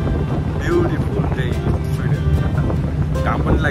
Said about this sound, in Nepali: लागिरहेको छ सर र हावा आइरहेको छ